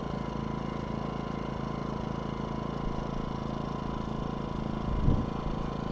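DuroMax XP2000is inverter generator idling at no load, heard from the exhaust side: a steady, low mechanical hum with a faint whine, constant throughout, with a brief low thump near the end.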